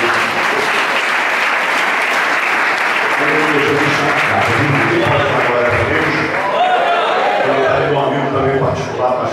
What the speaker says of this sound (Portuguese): Vamos aplaudir a Deus pela vida de Deus.